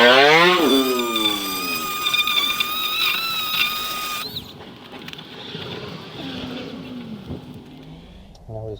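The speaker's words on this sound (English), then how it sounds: "Got the little Dremel stone now." Small Dremel grinding stone working rusty metal on a Fiesta ST 150, a high whining rotary tool close by that cuts off midway, followed by quieter scraping and handling noises.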